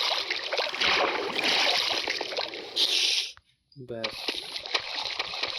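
Water splashing in Minecraft, a dense rushing splash and slosh that cuts out abruptly into a brief gap before resuming, with a person speaking over the game sounds.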